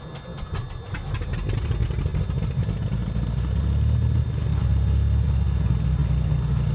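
Aircraft piston engine starting in a flight simulator: a few sputtering cranks give way to a steady low idling rumble that holds on, moderately loud, with no talk.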